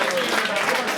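Audience applause for Doug McCormick, head cheerleader at a school veterans tribute, a steady, dense wash of clapping filling the whole second with no pauses.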